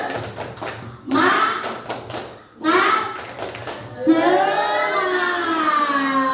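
A seated group at a school talk show claps a rhythmic encouragement pattern, bursts of claps alternating with group chanting and speech.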